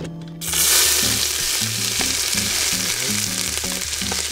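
Onions frying in hot coconut oil in a potjie pot over a braai: a loud, steady sizzle and crackle throughout, with no voice over it.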